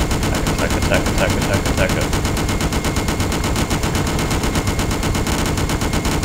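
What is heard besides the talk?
gunfire from enemies in Just Cause video game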